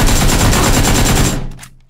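Rapid automatic gunfire in the battle royale game PUBG, a loud, dense burst of close shots lasting over a second before cutting off and fading out.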